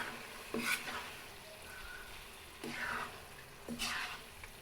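Liver pieces fry in a spiced oil paste, a quiet sizzle broken by three or four scraping stirs of a spoon through the pan, with no talking.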